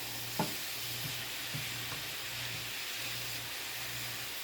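Julienned zucchini frying in oil in a pan, a steady close sizzling hiss with faint stirring clicks and a low hum underneath.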